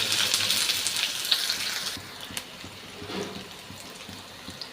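Chopped onions fry in hot oil in a pan for an egg curry, a soft steady sizzle that is loudest at first and then thins to a quieter hiss with a few faint clinks.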